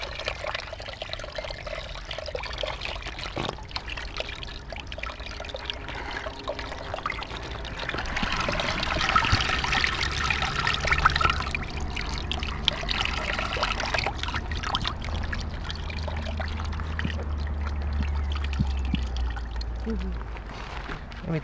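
Wash water from laundry pours and gushes out steadily, growing louder partway through and continuing as a constant rushing flow until the end.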